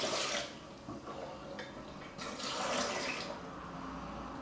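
Water poured out of a jar during home beer brewing, a splashing, running pour that swells and fades in a couple of surges, fairly close and moderately loud, with no talk over it.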